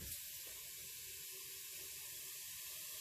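Water running into a stock pot of bones and vegetables for homemade bone broth, a soft continuous hiss and splash, steady and fairly faint throughout.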